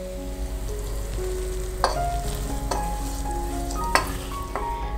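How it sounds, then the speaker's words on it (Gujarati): Hot tempering poured into handvo batter in a kadai gives a steady crackling sizzle while a spoon stirs the mixture, with a few sharper clinks along the way and no voices. "આ વઘારને આપણે બેટરમાં એડ કરી દેશું"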